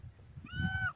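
A single cat meows clearly and close by, a rising then falling call that lasts under a second, over low background rumble. The cat is hungry and waiting to be fed in Palawan.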